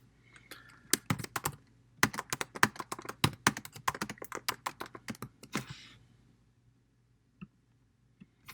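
Quick bursts of keystrokes clatter on a computer keyboard, irregular clicks in clusters over several seconds, then a few isolated taps trail off into near silence.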